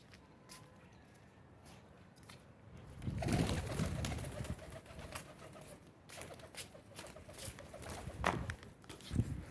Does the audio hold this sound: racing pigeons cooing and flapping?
yes